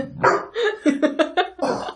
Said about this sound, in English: Sorry about my dog. He's trying to play with the cat.